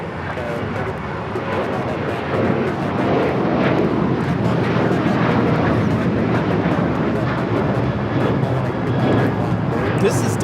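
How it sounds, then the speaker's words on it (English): A Delta Airlines Boeing 737-800 jet takes off from Los Angeles airport, a loud, steady engine roar heard from outside across the airfield, with people talking over it. "2096 taking off to New Orleans on the 737-800"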